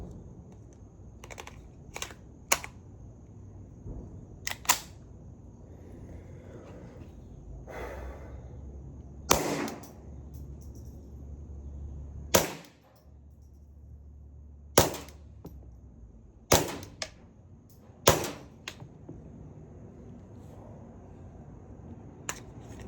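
Ruger Mark IV Lite pistol firing with a Banish 22 suppressor at a range, a series of sharp, dry cracks spaced irregularly over a quiet background, fairly close.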